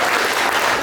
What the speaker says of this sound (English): Can we get a round of applause for some big people here?